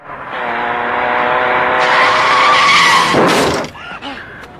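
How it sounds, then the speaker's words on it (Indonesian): A car in a film skids with a long rising tire squeal and engine roar, growing louder, then ends in a sharp impact crash as it hits a person, followed by fading rattling debris. "dia malah ditabrak oleh sebuah mobil."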